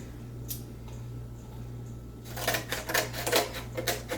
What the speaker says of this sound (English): first I'm going to cut down the cardboard to what I need it to be